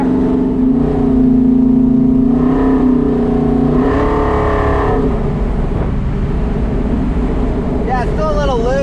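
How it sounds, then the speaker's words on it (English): Car with a 4500 stall torque converter revving up close, the engine note rising and holding loud, then falling back; a voice talks over the end. "And you can rev it a little bit."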